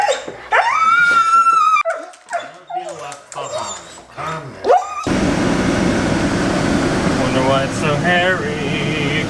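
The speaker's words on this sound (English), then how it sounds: "Could it be something scary? A big old dog." A big dog barks and whimpers in close, sharp bursts and whines for several seconds, then a steady hum of air conditioning fills the rest of the room.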